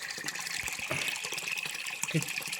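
Spring water at Nagzari Tirth on Panhala fort flows in a steady, close, continuous gush, a broad bright wash of running water with no talk over it.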